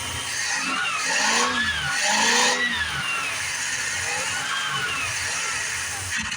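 A 1978 Dodge D-200 truck engine, previously locked up and now low on fuel, runs steadily up close with wavering, rising and falling tones and no voices over it.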